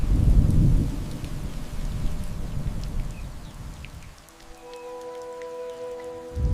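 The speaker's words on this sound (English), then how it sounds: "He looks out at the storm, a hostile world." Heavy rain hisses with low thunder rumbling through a prehistoric storm, loud at first, then easing as the rumble fades and faint tonal hums come in near the end.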